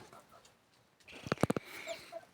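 A short burst of clucking from young chickens in a cage in a coop, several quick close calls in a row after a quiet start, with soft background noise.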